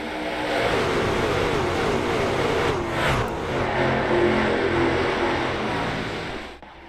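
Racing truck engines roar steadily in a sim racing game at a Las Vegas track on Tough Truck Thursday, a dense, loud pack of motors holding high revs throughout before easing off at the very end.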